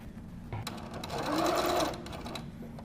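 Little Rebel sewing machine piecing quilt blocks: a quiet motor whirs up into a short, smooth burst of rapid stitching lasting about a second, then winds down.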